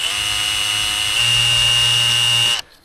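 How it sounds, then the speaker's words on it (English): Power drill countersinking screw holes while building a bump-to-bar obstacle, a loud steady high whine that shifts pitch slightly midway and cuts off sharply after about two and a half seconds. "And then we countersink them."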